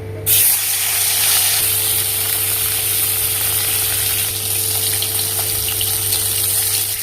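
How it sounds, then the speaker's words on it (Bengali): Fish frying in hot oil in a kadai over a gas flame gives a steady, loud broadband sizzle that holds evenly from start to finish without pauses. "তেল গরম হয়ে গেছে, মাছগুলো ভেজে নেব।"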